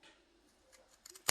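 Scissors cut fabric close to a sewn seam on a small soap pouch, giving a few quiet snips followed by one sharp, louder close-up clip at the end, with no voices.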